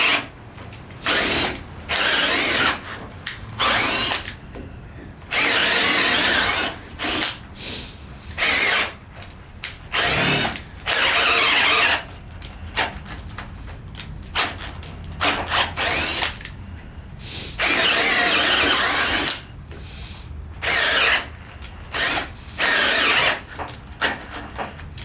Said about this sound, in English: Let's drill a couple 1/2 inch holes here.